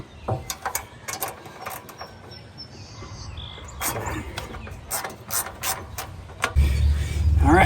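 A ratchet wrench backs out 10 mm bolts on a CAT RP7500 generator, giving off bursts of quick close clicking, separated by short pauses and brief metallic knocks, with a louder low rumble near the end.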